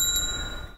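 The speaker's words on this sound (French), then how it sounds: "pour démarrer ma prière, je fais sonner ma cloche" A small ritual bell rings once with a bright, sustained metallic ding that decays over under a second, close and clear.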